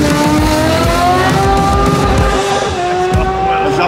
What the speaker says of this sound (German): Ich glaube, Joe ist gerade im ersten Gang da runtergerattert.